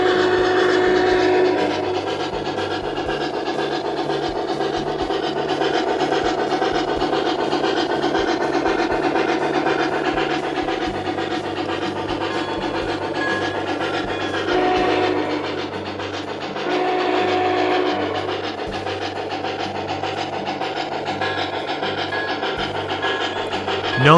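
An MTH HO-scale 484J steam locomotive model in Norfolk and Western colors, its sound system playing a steady chuffing rhythm with long blasts of a steam whistle layered over a continuous mechanical hum.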